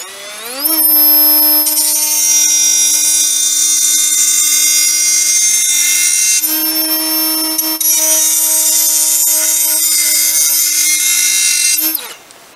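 An AEG BMMS18SBL-0 subcompact cordless angle grinder spins up and runs steadily with a high, piercing whine, briefly dipping around the middle before winding down at the end, with no talking.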